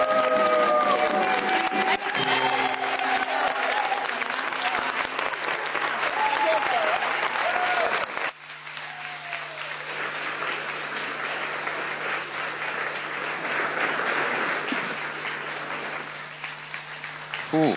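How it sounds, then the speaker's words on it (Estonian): Long applause at a journalism award ceremony, with dense sustained hand clapping from a large hall audience. The clapping continues for the whole stretch, dips briefly partway through and then swells again, with faint voices underneath. "Nii pikk aplaus"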